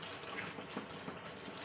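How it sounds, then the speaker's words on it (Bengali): Water poured in a small amount into chicken kadai curry cooking in a pan, a steady, even hiss of liquid lasting a second or two with no talk. "তো চলুন এই পর্যায়ে আমি দিয়ে দেবো অল্প করে জল।"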